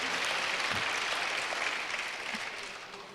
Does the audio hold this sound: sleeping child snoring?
no